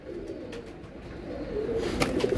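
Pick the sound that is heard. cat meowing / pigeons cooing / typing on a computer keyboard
pigeons cooing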